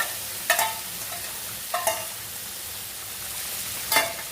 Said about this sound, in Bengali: এইবার করলাগুলোকে এর সাথে পুরো ভালো করে মিশিয়ে দেব